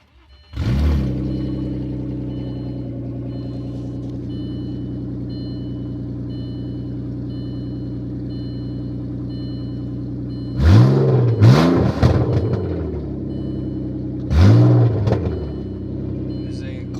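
A cold 1998 Audi A4 2.8 quattro with a manual gearbox idles with a loud, steady exhaust-leak drone, then revs sharply twice in quick bursts before settling back to idle.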